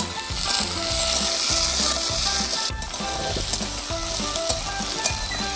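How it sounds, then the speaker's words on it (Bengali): Diced cubes of a large carrot hit a hot pan for a vegetable moong dal, loud frying sizzle with rhythmic scraping and clacking of a spatula stirring, fairly close and without speech. "এখানে আমি একটা বড় সাইজের গাজর ছোট ছোট করে কিউব করে কেটে রেখেছি, সেটা দিয়ে দিলাম"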